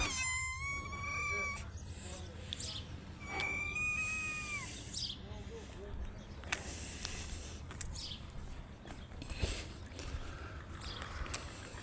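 A cat meows in a few short, rising cries near the start and middle, over a steady low rumble of background noise and some voices.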